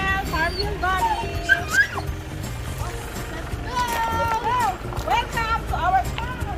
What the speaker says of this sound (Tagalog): These are our farm dogs